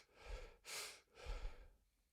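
Fast, shallow chest breathing demonstrated during a breathwork talk: three quick, close breaths in a row, soft airy inhales and exhales with brief gaps, and no speech over them.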